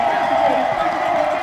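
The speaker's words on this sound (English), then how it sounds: "Grand Valley crowd." Grand Valley football stadium crowd cheering after a long touchdown, a dense, steady roar of many distant voices blended together, brief and continuous.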